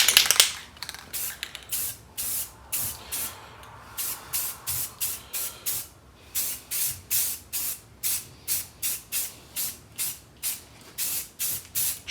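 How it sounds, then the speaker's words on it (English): Satin black Rust-Oleum aerosol sprayed during restoration work on a 26 Oakland: about a dozen short, sharp hissing bursts in a steady rhythm, close and alone after an initial longer spray. "Shooting this with a satin black Rust-Oleum"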